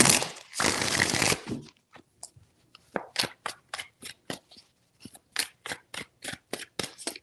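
Tarot cards are shuffled up close, first a long riffling burst, then a rapid series of sharp crisp snaps and flicks in an uneven rhythm, with no talking.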